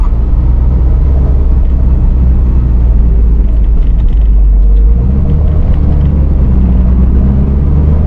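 A Honda S660 Mugen RA, a turbocharged kei sports car, accelerates hard to merge near Shiba Park. Loud, steady engine and road rumble fill the cabin throughout, and the tone shifts about halfway through.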